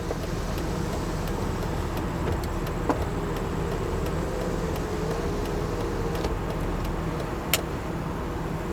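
A 1995 Mercedes-Benz S 320 long-wheelbase W140 sedan idles steadily, its engine giving off a low, even rumble with a faint hum above it and no voices.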